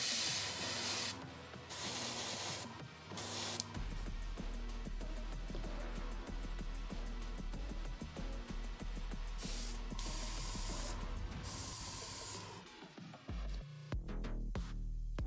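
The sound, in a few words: airbrush spraying paint on Gundam Zaku II model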